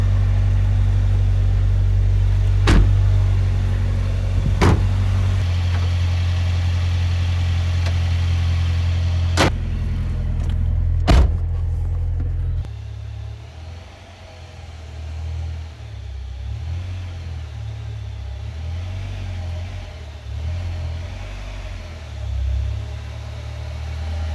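A 1997 Suzuki Sidekick engine runs steadily with a low, continuous rumble, broken by a few sharp clicks or knocks early on, then settling into a quieter, uneven idle.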